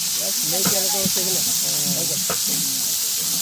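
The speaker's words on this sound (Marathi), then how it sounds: "आधी चांगला कांदा भाजून घेतला आणि त्याच्यानंतर त्याच्यामध्ये तेल टाकलं" Onions sizzling in oil in a pan over an outdoor fire while mutton is being cooked, a steady bright hiss running throughout with voices talking over it.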